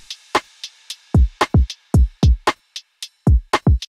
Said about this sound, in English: my drums in this track sound like this